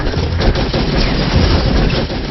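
Dense, continuous gunfire sound effects from a dramatized shootout in Chambal, Morena: rapid overlapping shots and bursts crackle loudly and nonstop, with no pauses.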